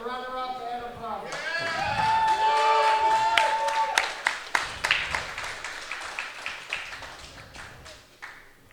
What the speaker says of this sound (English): Let's have a round of applause for the runner-up